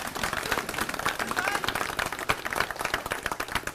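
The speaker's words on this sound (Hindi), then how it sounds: "जोरदार तालियों से स्वागत करेंगे" A crowd at an Aam Aadmi Party gathering in Delhi claps loudly to welcome Arvind Kejriwal, the party's national convener and three-time Delhi chief minister. The dense, steady applause runs throughout, close and energetic, with voices mixed in.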